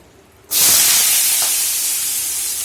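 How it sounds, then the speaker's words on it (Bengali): Cut potatoes dropped into hot oil burst into a sudden loud sizzle that holds steady as a broad, close hiss and slowly eases off. "এবার আলুগুলো আমি তেলের মধ্যে দিয়ে দেবো।"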